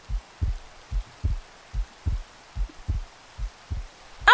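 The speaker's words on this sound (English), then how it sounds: "The heartbeats are really going for it." Heartbeat sound effect in a Minecraft game, a steady run of deep, low double thumps repeating about twice per second, loud and close with no talk over it.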